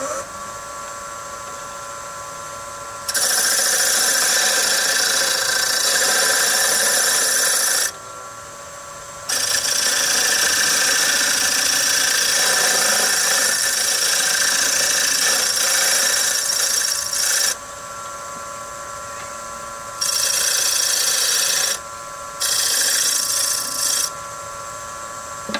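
Lathe turning a wooden toy wheel with a 1/2 inch round nose tool, bright scraping and cutting bursts that start and stop several times over a steady background hum.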